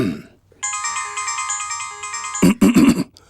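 A mobile phone ringtone plays a steady electronic melody of sustained tones for about two seconds, then breaks into louder, choppy warbling notes before cutting off, with no talking over it.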